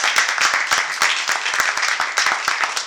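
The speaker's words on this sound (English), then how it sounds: "Give them a round of applause" An audience at a games and augmented-reality evening event claps for speakers, steady and close, filling the whole moment without talk.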